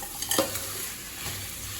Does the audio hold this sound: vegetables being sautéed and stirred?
yes